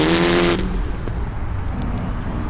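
A car engine revs hard for about half a second, a loud harmonic roar that cuts off abruptly into lower rumbling noise; racing-car comparison setting.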